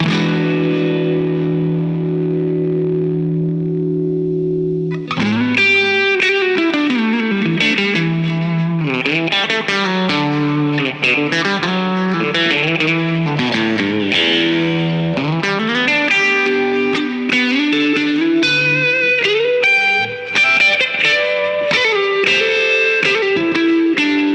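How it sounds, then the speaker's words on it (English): Electric guitar lead through an MD500 modulation delay pedal, with gentle swirling, shimmering modulation and trailing repeats, sustained notes and quick runs, loud and alone after a brief opening chord. "I'm going to add in that MD500 here, which you'll hear is just a bit of movement"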